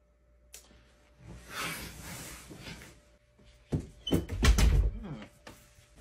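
A door creaks and swings, then thumps shut with a solid knock, close by in a quiet room.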